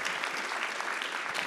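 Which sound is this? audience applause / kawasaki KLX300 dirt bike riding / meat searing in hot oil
audience applause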